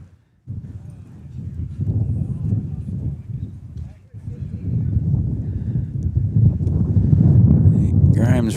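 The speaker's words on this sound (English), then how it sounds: "As the wind gusts up a little bit." Wind buffets the microphone outdoors at a lawn bowls grand final, a rumbling low roar that drops out briefly, then returns and swells.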